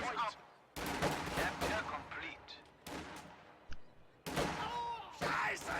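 Video game combat as grenadiers engage riflemen at range near a fuel point: loud bursts of gunfire and explosive cracks arriving in several clusters, separated by brief quieter gaps, with a voice talking over the action.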